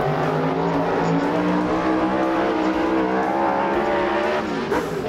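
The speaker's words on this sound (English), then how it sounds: "Humphries then began to chase down, and these two Superstock giants showed the true power of their cars" Superstock race cars roar around a dirt speedway, engines screaming continuously and loudly with rising and falling pitch as cars chase and pass, no talk over the din.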